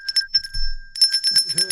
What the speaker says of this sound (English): Shame bell for Michael Bisping.